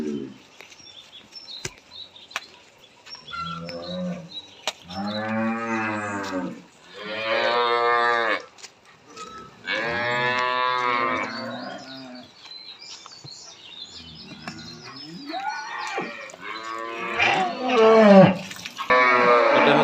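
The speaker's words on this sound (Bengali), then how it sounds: "এটা হচ্ছে আজকের ভিডিওর 2 নাম্বার গরু, 2 দাঁত" At a cattle market, a two-toothed cow calls out in a series of long, loud, drawn-out moos repeated several times close by, with faint bird chirps and scattered background noise between the calls.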